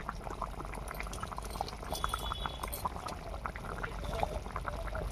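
A pot of broiler chicken curry boils steadily close by, its bubbles popping and gurgling in a continuous dense stream with no talk over it.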